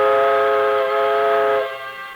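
A steam train whistle sounds loud and close in one long, steady, sustained blast before tapering off into a softer tail.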